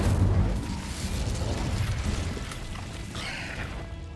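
An Incendio fire spell is cast in the video game Hogwarts Legacy: a loud burst of flame at the start that rolls into a sustained roaring, crackling whoosh which slowly fades.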